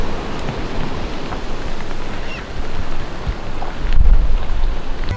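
Heavy rain at Olympic National Park, a dense, steady hiss of drops with low rumbling swells that rise and fall, loud and close throughout, with no voices.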